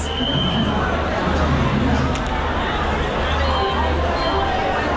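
Dense crowd hubbub fills the inside of Secunderabad railway station, a constant murmur of many voices and chatter close around, steady throughout.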